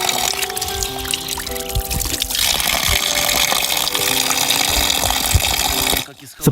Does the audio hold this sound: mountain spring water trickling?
yes